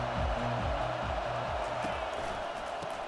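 Stadium crowd in the NCAA 25 college football video game, a dense steady roar of thousands of fans with rising and falling chants, while a commentator's voice talks over it.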